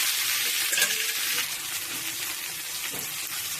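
Green chillies sizzle and fry in hot oil in a home kitchen pan, a steady broadband crackle running throughout with a few brief clinks, close and fairly loud, with no talking.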